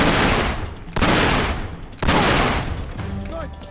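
Sustained bursts of automatic gunfire in the video game Uncharted 3, loud and dense, broken by two brief gaps before the shooting resumes and tapers near the end.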